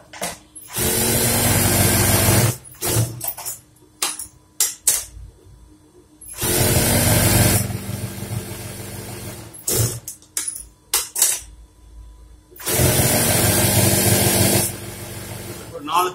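Sewing machine stitching a Punjabi pant, running in three long loud bursts of rapid mechanical whirring, with short clicks and handling noises between the runs.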